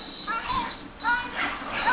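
A dog whimpers and yelps in short, high-pitched bursts while being mistreated, the cries repeating across the moment amid background chatter of nearby people.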